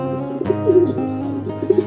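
Racing pigeons arriving back at their loft after a 56 km training toss, with repeated low throaty cooing and soft calls close by, rising and falling across a couple of seconds.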